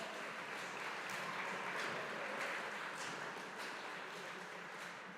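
Steady, even applause from an audience at a high school academic awards ceremony for student award winners, fairly faint and distant, continuous clapping with no pauses.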